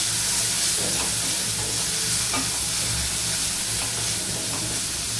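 Chopped onions sizzle and hiss in a hot pan while being stirred until lightly browned, a steady frying crackle with occasional scraping of the utensil.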